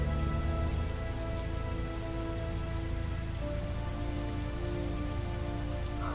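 Rain falling in the video game Heavy Rain, a soft continuous patter of drops on surfaces at moderate level, steady throughout with faint tonal ambience underneath and no speech.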